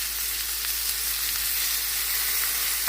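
Salmon bites sizzle and fry steadily in a hot pan, a dense, continuous crackle of hot oil held close and fairly loud for the whole stretch, with no voices.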